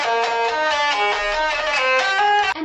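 Melody strings of a hurdy-gurdy playing a bright, reedy tune over about three seconds, loud and close with no voices.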